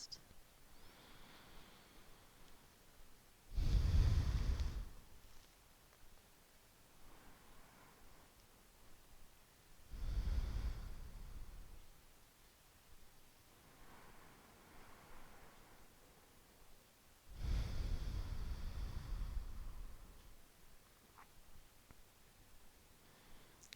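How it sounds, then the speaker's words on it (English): Deep breaths during a seated yoga twist outdoors in the woods, three slow loud breath swells spaced several seconds apart over a quiet background. "Breathing as you twist."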